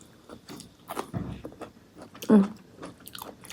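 Crunchy white asparagus, eaten with a Thai tuna dip, is bitten and chewed up close. Irregular crisp crunches and soft chewing follow, with one loud bite midway.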